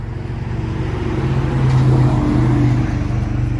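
Turbocharged engine of a 2019 Chevy Malibu with straight-pipe exhaust, giving a steady, loud, low droning rumble that swells slightly midway, heard close and alone.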